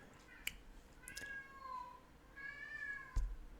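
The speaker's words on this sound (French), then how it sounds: "Il y en a un qui miaule vraiment fort." A cat meows loudly twice, long drawn-out wails rising and falling in pitch, close by and otherwise alone.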